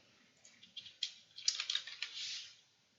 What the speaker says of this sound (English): I type dem instead of demo